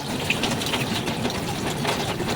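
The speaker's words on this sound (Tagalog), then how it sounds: "Grabe ang ulan." Heavy rain pours steadily during outdoor cooking of a soup with sweet potato tops and sponge gourd, a dense continuous hiss of rainfall with no talk over it.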